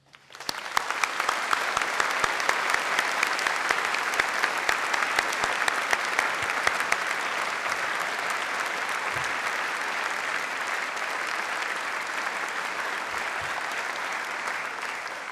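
An audience at a University of Manchester graduation ceremony bursts into applause, a dense, steady roar of many hands clapping that rises quickly and holds for over fifteen seconds, heard alone in a large hall.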